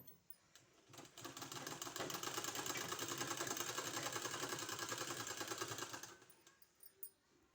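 A sewing machine stitches a neck design onto cloth, running steadily for about five seconds with a fast, even mechanical rattle, then stopping, with a few faint handling clicks after.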